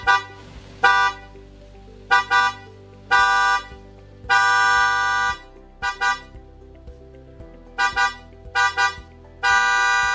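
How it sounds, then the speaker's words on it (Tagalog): A newly installed replacement horn on a Suzuki car sounds in a series of loud honks, some long blasts and some short double toots with gaps between them, close by and with no talking. "So, testingin natin kung malakas ba itong busina na to."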